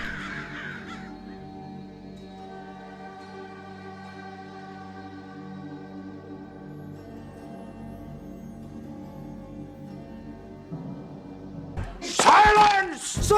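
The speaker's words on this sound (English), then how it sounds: "when I go outside, the crows follow me around, making a racket." Crows caw harshly, with loud ragged calls bursting out near the end after a long stretch of droning tones, and voices are present.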